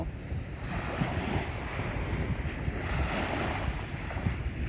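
Waves break and wash steadily along Pattaya beach in Thailand, a continuous loud surf roar mixed with wind buffeting the microphone, with no voices.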